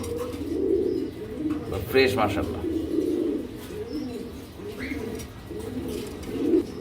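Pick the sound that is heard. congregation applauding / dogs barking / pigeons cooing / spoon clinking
pigeons cooing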